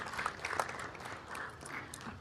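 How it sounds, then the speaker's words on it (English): A city council meeting audience claps for community resource center guests, a fairly quiet, thin patter of applause from a modest crowd, heard at a distance and fading slightly near the end. "So let's welcome and give them a nice round of applause."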